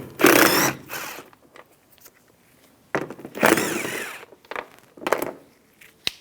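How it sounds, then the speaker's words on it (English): A ratchet fitted with an 8mm socket backs out the taillight screws on a 2011-2019 Ford Explorer, with three close bursts of rapid clicking separated by short pauses. "Use an 8mm socket."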